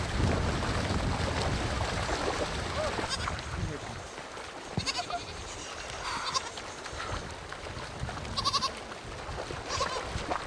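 Goats bleat in a high, wavering way during a river crossing with a nomadic herd in cold mountain country, several cries rising over a steady rush of water and background noise, with a voice speaking in places.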